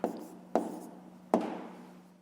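Three separate taps and strokes of a pen writing fractions by hand on paper, close and quiet, spaced about half a second to a second apart with no talk.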